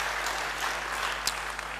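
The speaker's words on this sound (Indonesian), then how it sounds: "Beri tepuk tangan yang banyak-banyak." Church congregation applauding, a dense, steady wash of many hands clapping that holds throughout at moderate distance, with no speech over it.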